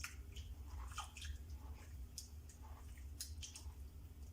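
Quinoa is washed in water, with soft, intermittent squishing and splashing close by as the grains are rubbed and swirled, quiet and without talk.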